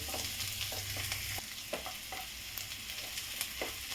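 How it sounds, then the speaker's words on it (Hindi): Onion with ginger, garlic and green chili frying over a high gas flame for egg bhujiya, a steady close sizzle with scattered spatula clicks and scrapes against the pan, no voices. "अदरक लहसुन हरी मिर्च मैं प्याज को डाल दी हूँ। गैस को हाई फ्लेम पर कर रही हूँ। इसे भी मैं थोड़ा भून लेती हूँ"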